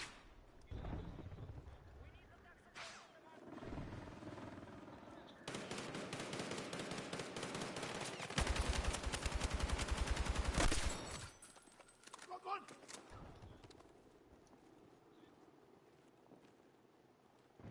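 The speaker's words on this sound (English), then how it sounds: "You're getting gunned down by the AA gun because there's genuinely somebody camping in the AA gun." Sustained rapid anti-aircraft gunfire from an emplacement in a video game, loud and continuous bursts with heavy booming, preceded and followed by quieter game ambience and scattered shots.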